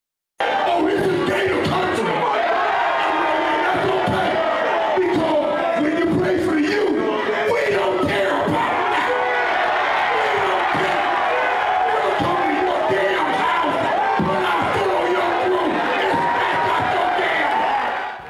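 A loud, packed party crowd in Orlando hosted by a former Miami Canes star roars and cheers continuously, dense shouting and whooping voices blending into a sustained wall of sound.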